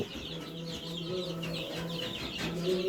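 Several chickens cluck and chirp repeatedly at close range on a poultry farm, overlapping calls forming a busy, moderately quiet barnyard chatter.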